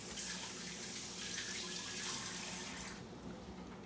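Green beans land in a hot pan and sizzle with a steady, even hiss that stays constant, then softens slightly near the end.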